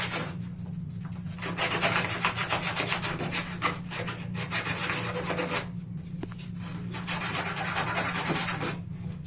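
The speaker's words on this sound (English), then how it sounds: "if you had to clean it up, use some abrasive cloth like this." Abrasive cloth rubbed around a copper pipe to clean it during a tub spout installation, rapid rhythmic scrubbing strokes close up, continuous with brief pauses.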